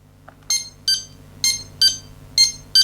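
Loud, sharp electronic beeps from a 1980s handheld block-dropping toy game, six evenly spaced bleeps about every half second, with a faint click at the start and no talking.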